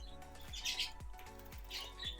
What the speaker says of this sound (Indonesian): jalak suren mandi, jalak kebo mandi